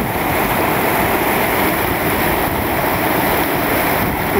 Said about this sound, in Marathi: तिकडे पाण्याचा फ्लो जास्ती आहे.